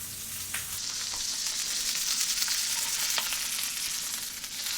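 New York strip steak searing in a hot pan with garlic nearby: a loud, close, continuous sizzle and crackle with a few sharper pops, no voices.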